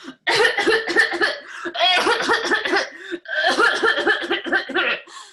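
A voice imitates a long fit of harsh, repeated coughing, the hacking bursts coming in rapid, uneven clusters with only brief pauses.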